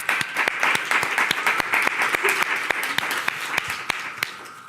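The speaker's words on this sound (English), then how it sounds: "Let's give him a round of applause, everybody." A crowd applauds at a ceremony at Brooklyn Borough Hall, dense steady clapping with a few sharp individual claps standing out near the microphone.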